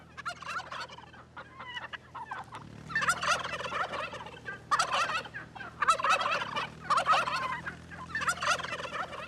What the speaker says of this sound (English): The domestic turkey gobbles all year long, rather than just in spring.